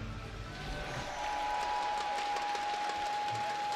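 A crowd at the BlizzCon 2018 Heroes of the Storm esports finals applauds and cheers, a dense continuous wash of clapping that swells slightly and holds steady throughout.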